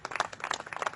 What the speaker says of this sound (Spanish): Vamos a darle un aplauso fuerte al Señor en esta noche.